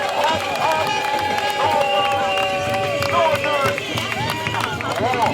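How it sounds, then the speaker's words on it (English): Outdoor rally crowd in London's Parliament Square at a reparations gathering, cheering and shouting with scattered clapping, voices rising and overlapping in a continuous, lively roar. "So give yourself a big round of applause."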